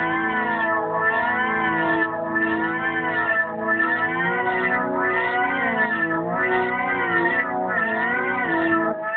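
A Korg Poly 800 synthesizer oscillator drones in a rich, buzzy tone that holds its pitch, with wavering, siren-like pitch bends layered on top, playing steadily and alone.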